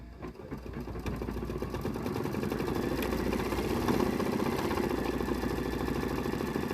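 A KimberBell embroidery sewing machine stitching steadily, its fast rhythmic needle chatter and motor hum running continuously and fairly close throughout, building slightly louder after the first second.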